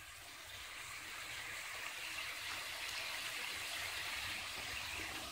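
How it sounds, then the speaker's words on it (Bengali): Water poured into a pan of potatoes while a prawn curry is being made, a steady soft gushing hiss that runs quietly and continuously on its own. "জল ঢেলে নিয়ে তারপরে দেবো চিংড়ি মাছগুলো।"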